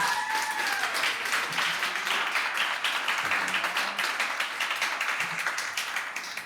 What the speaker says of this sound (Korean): 유지훈 형제에게 큰 박수 보내주시기 바랍니다